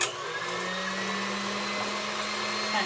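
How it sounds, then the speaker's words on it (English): KitchenAid stand mixer with a whisk attachment beating meringue on high speed, giving a steady, moderately loud motor whir with a faint tonal hum throughout, no voices. "Now, I am lucky to have this KitchenAid mixer, and I've got to tell you, it makes a huge difference."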